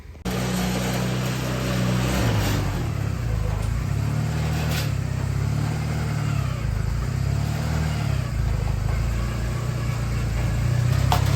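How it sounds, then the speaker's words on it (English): A restored go-kart's small engine runs steadily as the kart drives, a loud continuous buzzing drone with slight pitch shifts, close by and without talk. "so the go-kart moves under its own power"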